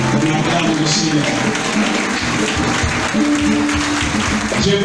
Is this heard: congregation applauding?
yes